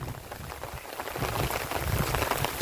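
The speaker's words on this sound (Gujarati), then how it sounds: "ચાલુ વરસાદ ચાલુ છે" Steady rain falls close by, a dense, even patter that grows slightly heavier as it continues.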